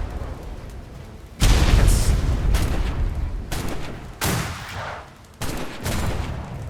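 Ship chaser cannons fire in the DarksideRP naval game, several heavy booming blasts with rumbling tails arriving in an irregular volley, loud and close over a low background din.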